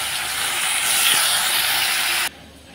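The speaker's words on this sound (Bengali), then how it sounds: "মাছগুলো ভেজে নিলাম" Four pieces of fish fry in hot oil in a home kitchen, a loud, dense, close sizzle that holds steady, then drops abruptly to a quieter hiss near the end.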